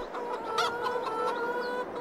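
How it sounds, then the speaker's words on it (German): Chickens clucking in the Farming Simulator 22 video game: close, steady hen clucks with a few sharper calls, loud and clear with no talk over them. "unsere Hühner sind da"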